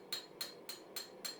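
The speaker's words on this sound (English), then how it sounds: "Planish, planish, planish out those hammer blows and just smooth up that surface as much as possible." Five evenly spaced hammer blows, about a third of a second apart, ring out as a planishing hammer smooths a steel bar during blacksmith work on a beveled scroll for a grille. The blows are crisp and fairly faint, with no talk.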